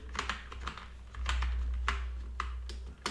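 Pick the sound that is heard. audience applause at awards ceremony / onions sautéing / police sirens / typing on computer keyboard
typing on computer keyboard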